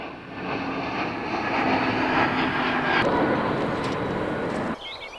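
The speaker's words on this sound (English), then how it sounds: "I shall shout so you can hear me over the top of the plane." A loud, steady roar of an airplane engine passing overhead, sustained for several seconds before dropping off abruptly near the end.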